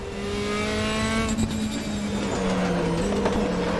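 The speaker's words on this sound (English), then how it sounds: "time to listen to the engine and the wonderful sounds of RaceRoom Racing Experience" A 2016 Mercedes-AMG C 63 DTM race car in RaceRoom Racing Experience screams at high revs, its loud, steady engine note climbing and dipping through a quick gear change, with no talking.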